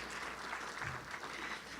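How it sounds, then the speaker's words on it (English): Light applause from an audience at a regional community forum, a short, even patter of clapping heard at a distance. "Little applause."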